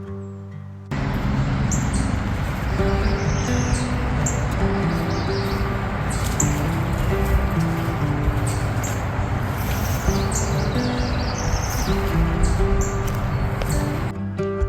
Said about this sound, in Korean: 새소리도 엄청 많고요.